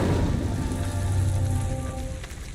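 Incendio fire spell cast in the video game Hogwarts Legacy: a loud, dense crackling roar of flames with a low rumble underneath, steady for about two seconds before easing slightly.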